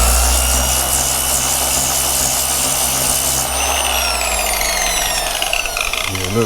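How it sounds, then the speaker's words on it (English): A power sander works a rusty spot on a Chevy Trailblazer body panel, a loud continuous whine and grind close by whose pitch shifts as the tool slows near the end. "we gonna sand it and see."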